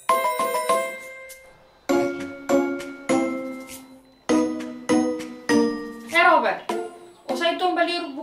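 A phone rings with a repeating melodic tone in several bursts, loud and close, with a voice briefly talking partway through.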